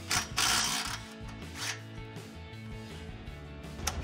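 Ratchet loosening rusty 15 mm bolts on the exhaust of a Mustang GT, rapid mechanical clicking of the pawl in repeated bursts, close and clear, with no voices.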